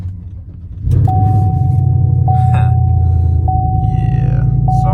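A Chevrolet Silverado 5.3 pickup's true dual straight-pipe exhaust suddenly roars to life, a loud, deep, steady rumble close by, with a faint repeating electronic chime over it.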